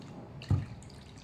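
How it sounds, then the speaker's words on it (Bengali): Water is poured into a pan while making egg paratha: a single short splash, close and moderately loud, over a faint background hiss. "আমি এখানে দু বাটি জল দিলাম"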